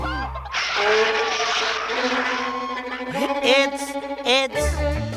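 Cartoon chickens cluck and squawk in a busy flurry of bright, honking calls that keep going without a break, with louder bursts near the end. Comic sound effects play over them.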